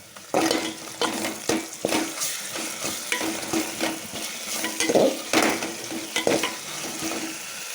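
Ginger garlic paste frying with onions already browned reddish in a pot for bagara rice, a crackling sizzle broken by repeated spoon stirs and clinks against the metal, close and steady throughout.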